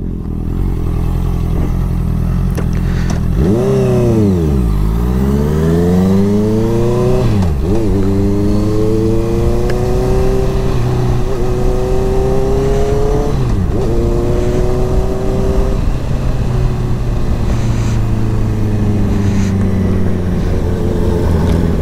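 A Honda CBR motorcycle revs and accelerates through repeated gear shifts, each pull rising in pitch before dipping at the change, loud and close from the rider's position with a steady rush of wind and road noise and no talk.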